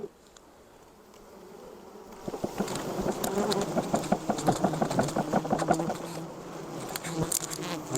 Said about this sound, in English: I'll just have a lot of bees flying around my head.